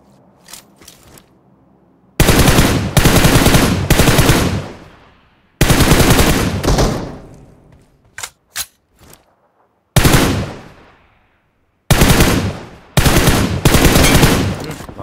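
Automatic gunfire from a battle royale mobile game plays as loud, close bursts of rapid shots, separated by silent gaps and a couple of single cracks, with no talking.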